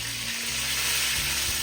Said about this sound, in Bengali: মাছগুলো বেশ হালকা বাদামি করে ভাজা হয়ে গেছে, এবার তুলে রাখছি।